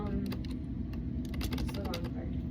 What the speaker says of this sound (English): Go ahead, I'm typing.